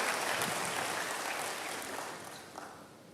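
A church congregation claps during an Indonesian sermon, a broad patter of many hands that starts full and gradually fades toward the end, with no voices.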